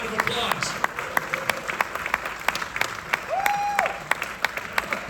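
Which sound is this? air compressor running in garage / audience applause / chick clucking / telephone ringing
audience applause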